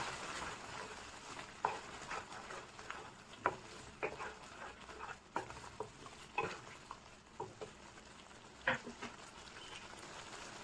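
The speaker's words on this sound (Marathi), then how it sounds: "क्रीम त्याला मिक्स करून घेऊया।" Cream being mixed into a simmering paneer lababdar gravy, soft irregular scraping and gentle bubbling in a pan with scattered spoon clicks, quiet and close, no voices.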